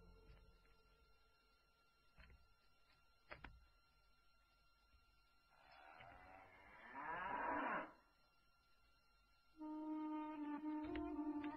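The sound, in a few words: cow mooing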